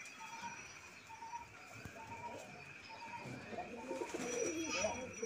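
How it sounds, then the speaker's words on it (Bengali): A sky-blue Rajgolla pigeon cooing, soft repeated low coos in a steady rhythm, faint and close against a quiet background hum, with no talking. "যারা কবুতর পালেন তারা বুঝতে পারবেন এর ডাকগুলা কেমন ভালো লাগে"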